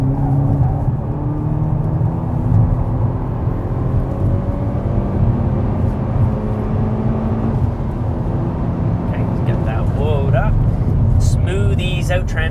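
A race car accelerates back onto the throttle after braking on a circuit, its engine a steady loud drone throughout with a rising pitch sweep near the end, while a voice talks over it.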